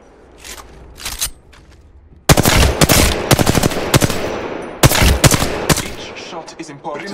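Automatic weapon gunfire on the Apex Legends training range: repeated loud bursts of rapid shots, close and punchy, with brief pauses between strings of fire and no talking.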